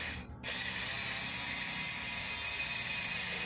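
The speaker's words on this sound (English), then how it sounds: "It's a heavy spark." A rewound 775 DC motor spinning at high RPM while drawing heavy current and sparking badly, giving a loud, steady, harsh whirring buzz with a gritty crackle that kicks in after a short dip and runs to the end.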